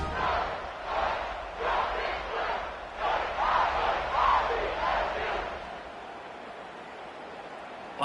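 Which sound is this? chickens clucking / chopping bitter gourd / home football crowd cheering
home football crowd cheering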